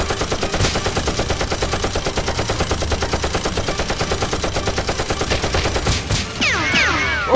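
Nerf guns fire in a rapid, steady stream of loud, rattling shots with no pause, ending in a brief shift near the close.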